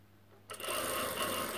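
A sewing machine stitching soft knit fabric starts abruptly after a short quiet moment and runs steadily and close for about a second.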